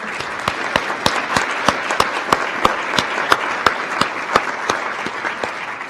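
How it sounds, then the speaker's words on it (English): An audience at an Executive MBA graduation ceremony applauds the faculty with steady, fairly loud clapping from a crowd, a few sharper individual claps standing out throughout, with no speech over it. "So let's give them all a round of applause."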